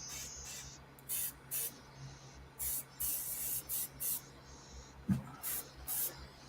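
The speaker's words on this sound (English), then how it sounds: "I just want to get this color out of my airbrush." Airbrush spraying out paint to clear a color: a series of short, sharp hissing bursts repeating in an uneven rhythm, close and fairly loud, with brief quiet gaps between sprays.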